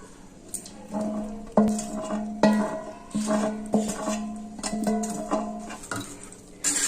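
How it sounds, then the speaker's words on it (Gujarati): Sugar syrup being stirred into roasted flour for adadiya, a Gujarati sweet, with a series of close metallic clinks and scrapes of a spoon against the pan at an uneven rhythm over a soft background hiss. "હવે ચાસણી છે તે આપણે આ રીતે શેકેલા લોટમાં એડ કરી દેશું બધી જ"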